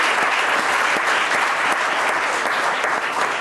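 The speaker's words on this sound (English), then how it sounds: "I want to ask you to please give everyone a big round of applause." Audience applauding at a Glendale city council organization meeting, a dense, steady clatter of many hands clapping throughout, loud and close with no pauses.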